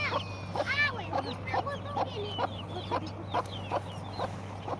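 Chickens cluck in a cage at a sheep-rearing household: a run of repeated short, bright calls, close and fairly loud, over a steady low hum.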